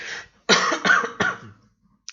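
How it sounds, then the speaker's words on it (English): A person coughs three times in a rough, close burst, then a short pause and a faint brief sound at the end; no talking. "I have a little bit of a cough."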